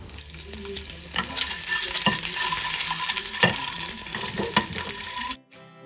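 Eggs fry in leftover mustard oil in a pan, a bright continuous sizzle with repeated spatula scrapes and taps, close and loud, before cutting off abruptly at the end; no talking.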